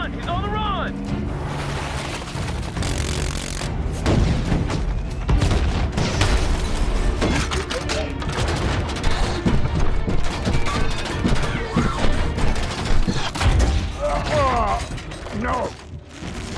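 A battle scene from the 2014 film Transformers: Age of Extinction: loud, dense gunfire, metallic clanks and booming missile blasts pile up continuously, with shouted voices cutting through the chaos.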